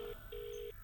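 A telephone number is dialed as two quiet keypad tones, a short beep followed by a longer one, with nothing else heard around them.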